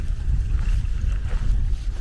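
Strong outdoor wind buffeting a microphone on a walk near water, a loud, constant low rumble with gusty fluctuations and no talk.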